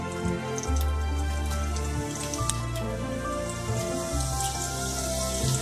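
Mustard seeds, cumin and urad dal sputter in hot oil, a continuous crackling patter with scattered sharp pops over a low steady hum.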